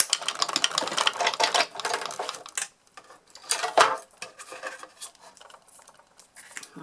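Card stock with hammer and saw dies cranked through a manual die-cutting machine, close clattering and grinding rattles in irregular bursts with short quiet gaps, no speech.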